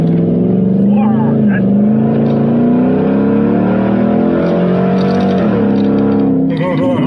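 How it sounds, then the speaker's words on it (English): Nissan Patrol Y62 V8 on 35-inch tyres accelerating, a loud, steady engine rumble from inside the cabin that climbs in pitch partway through, heard under people talking. "Having that V8 sound just rumble underneath you."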